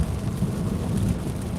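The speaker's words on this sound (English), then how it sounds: "And a rumble of thunder." Low, continuous rumble of thunder during a severe thunderstorm in Charlotte, heard from inside a car on a commute, steady and loud with broadband hiss over it and no talking.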